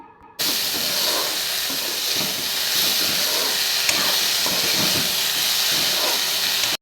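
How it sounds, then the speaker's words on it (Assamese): Chopped leafy greens frying in a hot pan give a loud, continuous hiss and sizzle that starts abruptly and holds steady close to the microphone, with no talking. "এতিয়া শাকখিনি অকণমান সময় ভাজি ল'ম"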